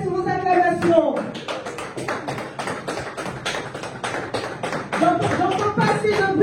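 A concert audience claps for an artist in rapid, uneven bursts of sharp close hand claps, while a loud announcer's voice talks over the crowd throughout.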